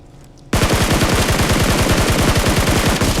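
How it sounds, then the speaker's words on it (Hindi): Rapid automatic gunfire in the mobile shooter game BGMI, a loud, close, sustained burst of evenly spaced shots that starts abruptly and continues for about three seconds without talk. "तभी फायरिंग की साउंड आती है"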